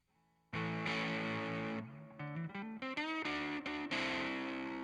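An Eastwood Airline Jetson '59 3P Deluxe electric guitar on the neck pickup, driven through a Blues Driver distortion pedal, plays loud sustained chords and then a run of shorter bending notes, alone and up close.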